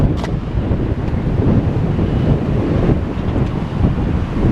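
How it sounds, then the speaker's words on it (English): Wind buffets the microphone outdoors in a steady, heavy rumble that stays loud and close throughout, with no voices. "A bit windy down here."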